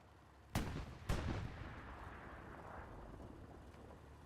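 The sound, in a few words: tank gunfire at a Panther in a video game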